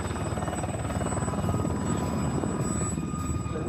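A helicopter drones steadily with a fast rhythmic rotor chop, fairly close and continuous throughout.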